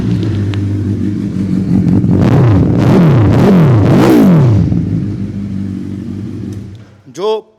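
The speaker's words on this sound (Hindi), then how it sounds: "जो हायाबुसा का एक बेसी सा साउंड है वो इस बाइक में आपको बहुत अच्छे से मिल जाएगा" A pre-owned superbike engine, likened to a Suzuki Hayabusa, rumbles close at idle, then revs up and down in several quick, sweeping throttle blips before settling back and cutting off with a short final burst.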